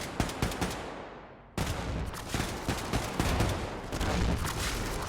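Gunfire in the Wolfenstein 2 video game, an enemy soldier shot with his own gun: rapid, dense bursts of shots that cut off briefly, then resume loud and continuous.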